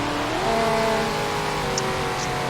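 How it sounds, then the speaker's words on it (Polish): A Bugatti Chiron is driven in a Roblox Brookhaven ramp-jumping game, producing a steady engine drone with faintly rising tones and no one talking. "Jedziemy Bugatti Chiron."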